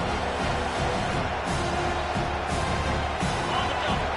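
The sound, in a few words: football stadium crowd cheering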